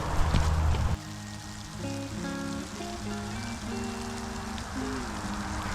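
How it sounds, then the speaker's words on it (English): Small ice pellets fall steadily through winter woods, a dense, even patter ticking on surfaces close by, with a brief louder burst at the start and a faint whistling tone running underneath. "it's cold enough that that is not rain, and it's just these little pellets of ice."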